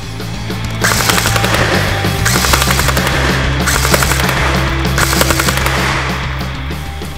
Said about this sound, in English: I'm going to fire about three or four bursts of full auto